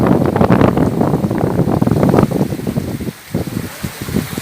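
Heavy rain roars steadily with gusty wind buffeting the microphone, then eases slightly into a patchier patter near the end.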